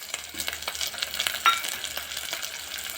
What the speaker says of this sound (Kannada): ಧನಿಯಾ ಹಾಕಿ ಚೆನ್ನಾಗಿ ಫ್ರೈ ಮಾಡಬೇಕು